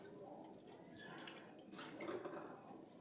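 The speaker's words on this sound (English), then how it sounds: "I think I'll add more water." Water is poured into a blender holding celery for juice, a soft, faint splashing and trickling that swells in the middle and fades.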